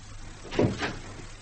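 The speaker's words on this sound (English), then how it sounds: "Shut the door." A room door shut in an old-fashioned hotel, heard as a single soft thud with a brief follow-up knock, faint against a quiet background hum.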